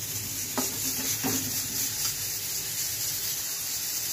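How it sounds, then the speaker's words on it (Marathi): Cauliflower is stir-fried in a pan for a home-style vegetable dish, with a faint, steady sizzle and a few soft scrapes of a stirring spoon early on. "फ्लावर पण छान परतून घ्यायचे आपल्याला।"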